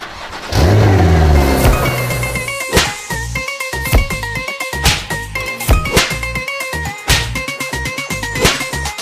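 A local bus engine cranks and catches, then settles into a loud, close running rumble. Rhythmic knocks and tonal sounds play over it.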